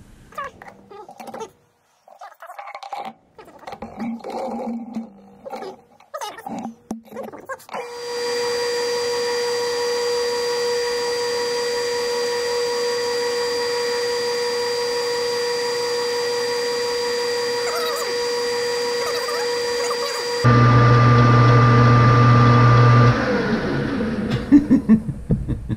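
A metal lathe chamfers the edge of a metal bushing being turned into wedding bands, with a few clanks at first, then a steady high machine whine for about twelve seconds that shifts into a louder, deeper running hum.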